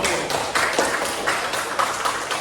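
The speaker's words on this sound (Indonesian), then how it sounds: "Betul, beri tepuk tangan dulu" Pupils in a Grade 5 primary-school maths class clap together in short rhythmic bursts, a fairly faint patter of hands that keeps a loose, steady beat.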